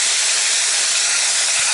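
Steady, loud hiss of beef stock from Better Than Bouillon steaming as it's poured into a hot Dutch oven, a continuous broadband sizzle with no pauses.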